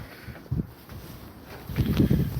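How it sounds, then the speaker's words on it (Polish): Strong gusty wind outdoors during a live stream, buffeting and rumbling in uneven bursts that swell louder near the end, with no speech. "ale to wieje, co?"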